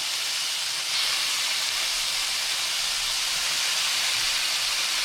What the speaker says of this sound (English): I'm gonna just throw these in this pan for about 2 minutes per side